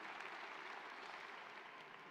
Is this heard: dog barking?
no